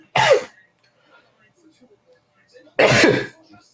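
Two separate loud sneezes or sneeze-like bursts, close by, spaced a couple of seconds apart with near silence between them.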